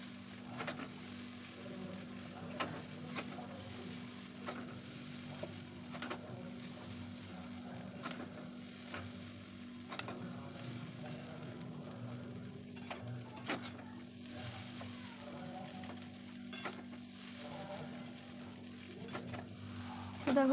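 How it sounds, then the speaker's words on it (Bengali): Chowmein being stirred in a pan after Maggi masala, soy sauce and vinegar go in: steady scraping and tossing with recurring clinks of the utensil over a low, constant sizzle, close by with no talking. "দিয়ে ভালো করে নেড়ে নেব।"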